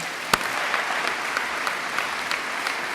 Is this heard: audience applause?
yes